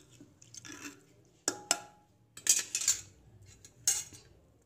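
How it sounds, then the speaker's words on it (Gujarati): Metal spoon clinking against a pot while mixing chana dal with chopped chillies, onion and coriander, a few sharp scraping knocks spaced irregularly, close and fairly quiet with no talking. "બરાબર બધું મિક્સ કરી લેવાનું છે ચમચા વડે."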